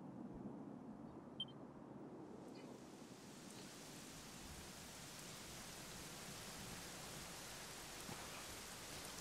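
Steady rain pours in a Dragon Quest XI scene, a dense, even hiss that is quiet for the first few seconds, then swells and holds constant throughout, with no voices.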